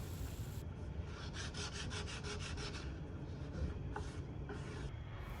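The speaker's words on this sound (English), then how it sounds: "I went ahead and sanded it down a little bit with a 220 grit sandpaper" Painted wood is rubbed with 220 grit sandpaper in short, even back-and-forth strokes, a close, soft rasping rhythm with a few pauses and no voices.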